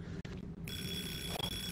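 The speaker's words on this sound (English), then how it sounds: "timer's going off" A kitchen timer in a VR video game starts ringing partway through, a steady bright electronic ring replacing quieter game background sound.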